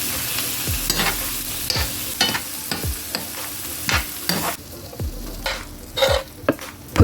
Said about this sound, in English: Stir evenly.